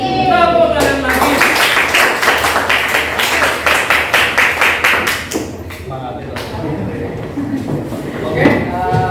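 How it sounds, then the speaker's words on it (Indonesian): A group of people clap their hands in a quick, even rhythm for about five seconds, crisp and fairly close, in an indoor arts class setting, followed by a pause and then voices talking. "Tepuk tangan lagi."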